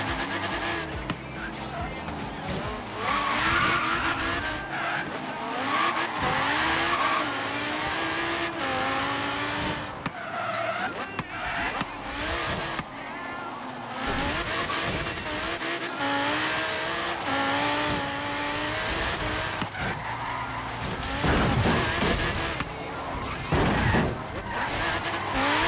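A Jaguar D-Type races through the tight corners of Forza Horizon 3, its engine revving up and down with repeated tire squeals and the odd scrape of contact, loud and continuous.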